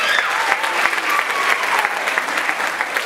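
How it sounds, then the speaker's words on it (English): A school concert audience gives sustained, loud applause for a jazz band's saxophone players, dense clapping from a full crowd with no voices above it. "Another round of applause."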